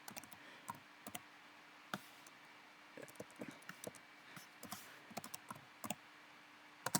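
Keys clacking on a computer keyboard as a console command is entered in Crusader Kings II, with irregular bursts of close, crisp taps separated by short pauses and no talking.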